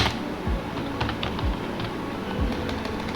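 Rapid, uneven keystrokes on a computer keyboard at a Windows 10 PC, clicking close and steady for about three seconds with no voices.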